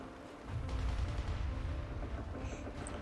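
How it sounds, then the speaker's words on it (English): Dense, continuous gunfire rumbles with heavy low booms, a sustained firefight in the WW2 video game Warsaw, distant and unbroken for the whole stretch. "The strident noise of gunfire fills the air, marking the site of an ongoing firefight"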